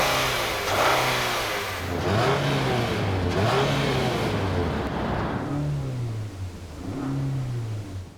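A 2016 Nissan Altima's 2.5-litre four-cylinder engine accelerates repeatedly, revs climbing and dropping through several gear changes with a steady mid-pitched drone, heard from inside the moving car.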